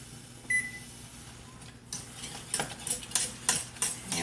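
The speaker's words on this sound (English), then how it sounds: "we're just going to keep stirring" A spoon scrapes and clinks against a pot while butterscotch pie filling is stirred, in irregular close strokes that grow busier after a faint beep, with no talk.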